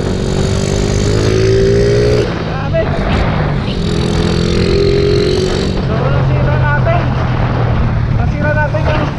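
A super stock motorcycle runs hard at top speed, its engine a loud sustained drone with shifting pitch and rushing wind, while voices talk over it.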